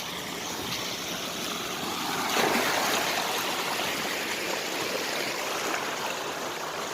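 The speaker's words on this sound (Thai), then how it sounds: "น้ำไหลแรงมากครับ" Strong floodwater in Sukhothai, Thailand, rushes steadily in a loud, unbroken roar, with no voices.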